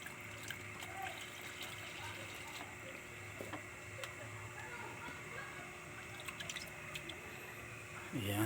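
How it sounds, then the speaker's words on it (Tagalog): Water poured into a pot of cooking mung bean stew: faint dripping and trickling close by, with someone talking at times over the quiet liquid sounds. "Lagyan natin siya ng konting water."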